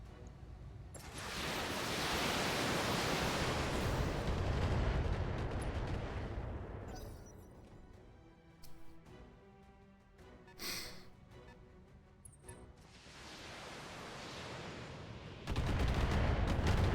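Mech artillery bombardment in BattleTech, heavy roaring barrages of booming fire for the first several seconds, then scattered sharper impacts and quieter stretches before another loud blast rolls in at the end, with no talking.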